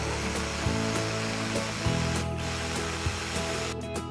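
A blender grinds a sauce of beans and plantain for stuffed ancho chiles, giving a continuous loud whirring hum with small rhythmic pulses as the contents churn, running steadily throughout.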